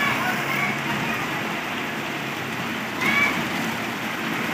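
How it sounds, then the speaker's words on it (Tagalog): Heavy rain falls in a steady, dense hiss that stays loud and even throughout, with a faint voice underneath. "tayo mag video tuloy dahil nalakas ang ulan medyo hindi mainit"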